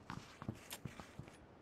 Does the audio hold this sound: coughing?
no